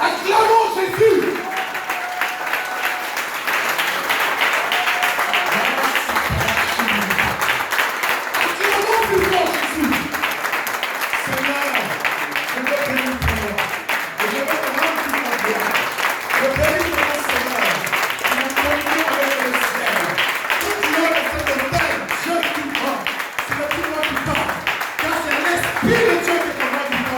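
A church congregation claps and cheers to acclaim Jesus, with sustained dense applause over a steady crowd roar that lasts throughout and carries voices calling out within it.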